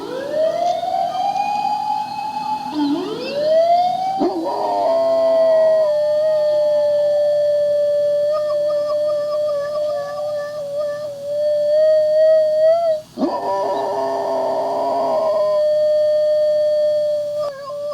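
A dog howls in long rising and falling tones imitating a police siren, with a real siren pattern heard alongside; no speech.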